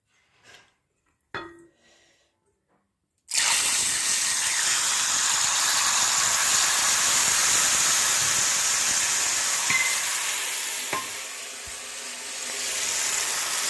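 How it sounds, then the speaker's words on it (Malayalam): After a few quiet knocks, tamarind water poured into hot oil makes a loud sustained sizzle and hiss that erupts suddenly and continues steadily, easing slightly near the end. "ഈ എണ്ണയിലോട്ട് ഒഴിച്ചൊന്ന് അതിൻ്റെ വെള്ളം ഒന്ന് വറ്റിച്ചെടുക്കാം"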